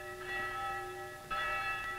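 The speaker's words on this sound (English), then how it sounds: "this bell first signaled the hours of the college day." A Princeton college bell rings the hours, a sustained metallic tone with a rich ringing hum and a fresh strike partway through, heard in a resonant space.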